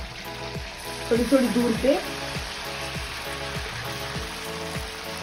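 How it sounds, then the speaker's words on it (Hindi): Spoonfuls of malpua batter sizzle and fry in hot oil over medium heat, a steady crackling bed with a few louder bubbling bursts as batter drops in, while someone talks over it. "ऑयल गरम हो गया है, अब हम इसमें मालपुए तलेंगे"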